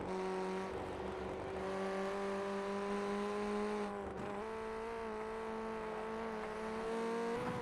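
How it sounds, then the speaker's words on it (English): Ray FF1600 open-wheel race cars at Oran Park, a constant high engine drone with tonal harmonics that dips briefly as the cars shift or brake, then climbs again, loud and sustained throughout. "Just beautiful sounding cars."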